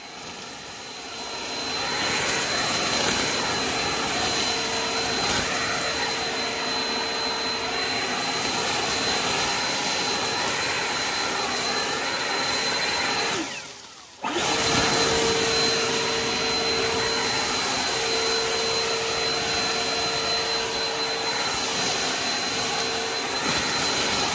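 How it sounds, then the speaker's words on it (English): An Ego LBPX8006 commercial battery leaf blower blasts thick piled leaves, a loud steady close-up whoosh that runs continuously, drops out briefly partway through, then resumes at full force. "They're starting to get thick and pile up now, but the blower is still moving them pretty good."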